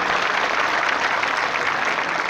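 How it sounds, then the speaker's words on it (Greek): Dense, steady applause from an audience at an event honouring a president, loud and sustained without a break. "παρακαλώ ένα θερμό χειροκρότημα για τον πρόεδρο"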